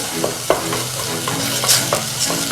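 Food for rendang being stirred in a hot pan, a spatula scraping and tapping in an irregular rhythm over a steady close sizzle.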